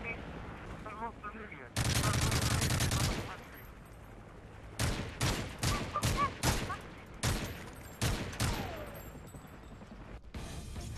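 Gunfire in the shooter game Modern Warfare 3: a long loud burst of automatic fire, then a quieter pause, then a series of short sharp bursts, with faint voices between.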